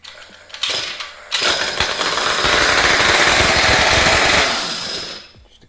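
A custom twin-cylinder engine built from Honda Spree AF18 parts runs briefly on the floor, starting with a couple of loud bursts, then roaring in a dense, harsh, rapid-firing buzz for several seconds before cutting out.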